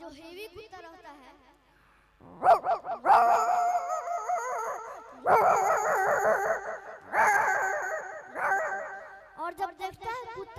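A voices an imitation of a big, heavy dog barking, delivering loud, gruff bursts of woofs and growls in several clustered bouts, close up, after a few quieter whiny sounds at the start.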